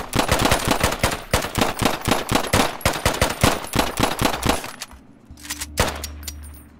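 Rapid P89 pistol shots in the 2D shooter game Intravenous: a fast, steady string of loud, sharp reports for about five seconds, then a pause and a couple of lighter mechanical clicks as the gun runs dry.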